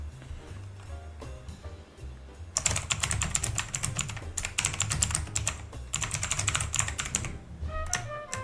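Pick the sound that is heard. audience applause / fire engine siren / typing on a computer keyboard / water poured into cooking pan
typing on a computer keyboard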